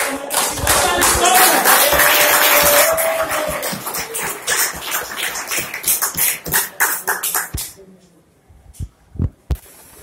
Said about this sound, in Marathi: मित्रांनो जोरदार टाळ्या स्वागत करा